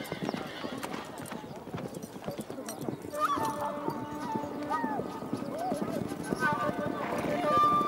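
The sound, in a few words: horses galloping and neighing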